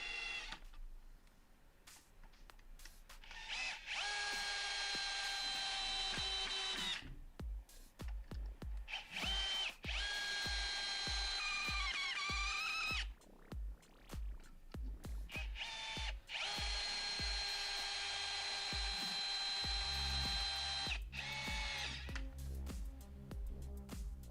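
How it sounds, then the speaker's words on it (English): A Bosch AdvancedImpact 18 cordless combi drill drives screws of various sizes straight into wood with no pilot hole. It gives three long, loud whirring runs that rise in pitch, separated by clicks and handling noise, and a low rumble enters near the end. "I'm driving some various screws of different sizes directly into the wood, so there's no pilot hole here"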